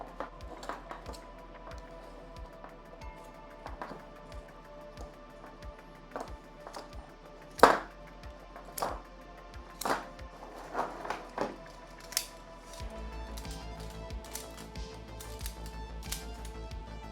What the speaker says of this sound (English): I'm gonna use some bigger scissors and I'm gonna cut off the fingertips